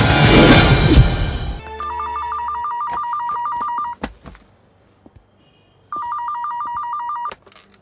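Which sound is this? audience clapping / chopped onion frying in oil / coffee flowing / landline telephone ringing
landline telephone ringing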